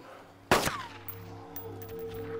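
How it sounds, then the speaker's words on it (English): A single gunshot in DayZ, fired as a headshot on a zombie, cracks loud and close, then fades into a ringing tail over low background game ambience. "I'm going to headshot this guy"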